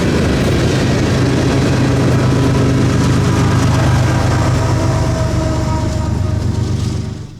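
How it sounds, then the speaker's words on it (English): A northbound sand train pushed from the rear by a distributed power locomotive rolls past close by, a loud continuous rumble of wheels and heavy diesel drone that stays steady and then starts to fade at the end. "got some shots of the DPU shoving the train north"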